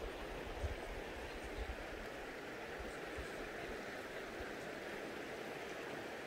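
A creek at Apple Hill, with cold water flowing in a faint, steady rushing wash that continues without a break.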